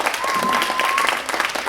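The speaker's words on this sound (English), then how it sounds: "Please give them a round of applause" Audience applause at a 3rd grade string recital, steady clapping from a crowd held throughout, with voices talking over it and a faint sustained tone running through the first second.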